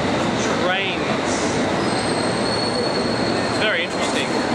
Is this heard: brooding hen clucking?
no